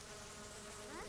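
Flies swarming around an overflowing dumpster, a thin buzzing drone with one wing whine rising and sweeping past near the end, quiet and close against faint outdoor background.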